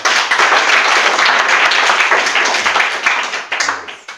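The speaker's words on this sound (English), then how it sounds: "Can you clap for yourself?" Children at a children's home clap for themselves, a dense, steady patter of many small hands that fills the room, thinning slightly toward the end.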